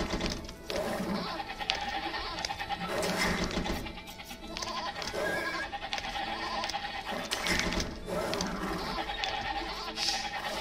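Sheep bleating in a video game, a flock of many overlapping bleats repeating loudly over several seconds with game sounds beneath.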